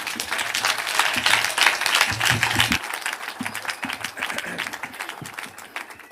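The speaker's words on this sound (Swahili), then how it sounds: "Tungetaka kwa heshima tumpigie makofi, tumkaribishe rais wetu." A crowd at a burial service in Nyandarua applauds to welcome President Ruto, with dense rapid clapping that swells and eases in waves over several seconds, heard from within the gathering.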